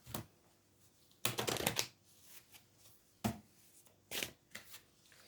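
Tarot cards shuffled to draw a single card, heard as several separate bursts of close riffling and slapping, loud against quiet gaps.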